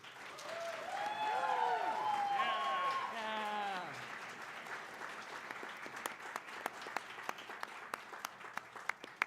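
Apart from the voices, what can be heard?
audience applause at an awards ceremony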